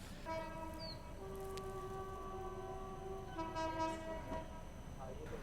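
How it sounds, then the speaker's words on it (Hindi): The Chandigarh Bandra Superfast Express sounds long, sustained horn blasts as it passes, loud over a continuous rumble of the moving train. "सबसे पहले हमें यहाँ पे ओवरटेक करने आ रही है चंडीगढ़ बांद्रा सुपरफास्ट एक्सप्रेस"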